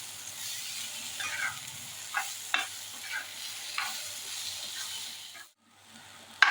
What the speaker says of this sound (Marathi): हे अजून दोन मिनटं परतून घेणार